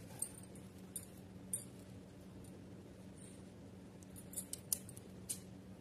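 Scissors snipping a paper flower sticker for a Kanha doll outfit, a quiet room with a few sparse, light clicking cuts spread out over several seconds, close and faint.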